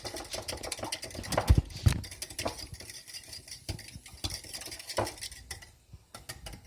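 Eggs for a Western omelette are beaten with a whisk in a bowl, producing quick, light rhythmic clicking and tapping against the sides with a few sharper knocks, fairly close and moderately quiet.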